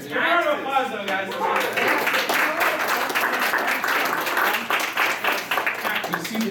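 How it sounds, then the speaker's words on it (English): An audience applauding at a game show during an anime convention, dense clapping filling the room continuously while people talk over it. "Give a round of applause, though, guys."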